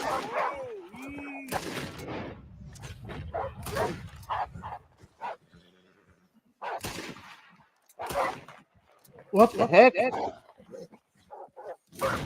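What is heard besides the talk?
dog barking in a video game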